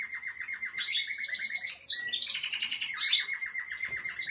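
Small birds chirp and tweet continuously in bright, rapid bursts, with a busy chorus of calls overlapping throughout.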